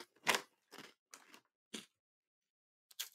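Hard, dry tack crackers are bitten and chewed up close, giving five sharp crunches spaced irregularly with silence between them.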